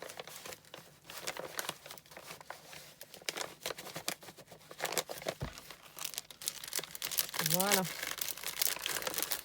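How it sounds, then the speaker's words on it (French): A paper letter is folded and slipped back into an envelope, giving close crinkling and rustling with a brief tearing-like swish, broken up by someone talking over it throughout. "Hop, je remets ça donc dans l'enveloppe."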